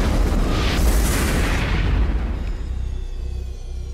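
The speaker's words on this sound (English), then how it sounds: "that's a big explosion" A loud, deep explosion from the film The Fifth Element booms and rumbles, then slowly fades into a quieter low roar.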